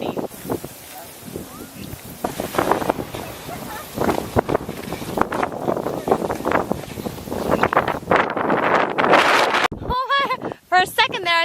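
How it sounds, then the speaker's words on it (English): Strong gusting wind buffets the microphone on a volcano hike, a loud, continuous rumbling roar with rustling bursts throughout, and a person speaks briefly near the end. "The wind is getting stronger and stronger right now."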